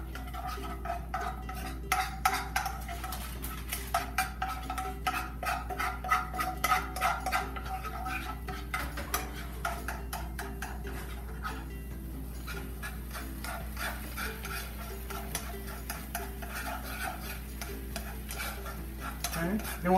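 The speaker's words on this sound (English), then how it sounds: "I'm going to go ahead and add the apricots into the pan" Apricots cook in a pan of melted brown sugar and butter, with steady scraping and clinking of a utensil against the pan and a soft sizzle beneath. The stirring is close and repeated, and there is a constant low hum.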